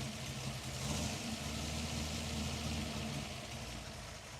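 A warm Ford Falcon engine idles in a smooth, steady low rumble, close by and alone for a few seconds.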